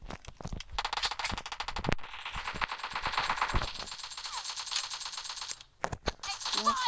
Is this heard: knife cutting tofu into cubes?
no